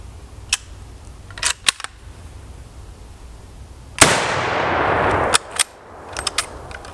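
An Italian M38 Carcano rifle chambered in 7.35x51 fires a single loud, sharp shot that rings out and decays over about a second amid outdoor ambience, with a few clicks of the bolt action before and after.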